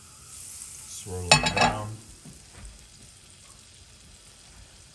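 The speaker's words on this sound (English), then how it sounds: "So best thing is to put in nice butter in here." Butter hits a hot pan for a crispy rosti and bursts into a loud, crackling sizzle that peaks briefly and then settles into a faint hiss. Someone speaks briefly.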